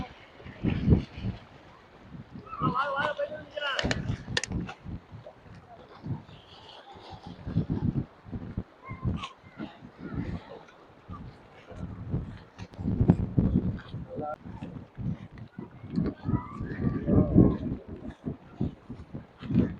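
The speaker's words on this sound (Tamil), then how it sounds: "காற்று பயங்கரமாக அடிக்குது." Strong gusts at Manora beach near Thanjavur batter the microphone in heavy, uneven rumbling bursts that run throughout, close and loud, with brief rustling in between.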